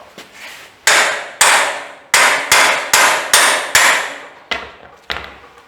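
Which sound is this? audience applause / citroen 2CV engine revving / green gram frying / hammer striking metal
hammer striking metal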